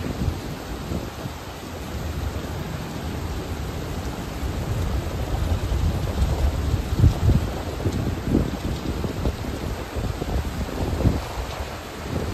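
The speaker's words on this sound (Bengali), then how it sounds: "এই ঝর্ণাটা পেরোচ্ছে আমাদের গাড়ি।" A car crosses a waterfall stream on a rough mountain road in Uttarakhand's Darma Valley, with constant loud rushing water and splashing wind-like noise filling the whole stretch.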